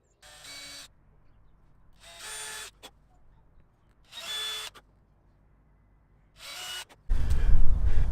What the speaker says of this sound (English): now I just need to drill 2 tiny, tiny little holes which will actually screw the lights on